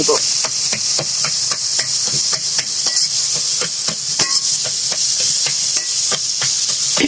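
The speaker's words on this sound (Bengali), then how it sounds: "এভাবে কচুর ফুলটাও ঘেটিয়ে ঘেটিয়ে রসটা টানিয়ে" Taro flowers being stirred and mashed in a cooking pot, giving a steady run of light scraping and knocking strokes against a constant hiss from the stove.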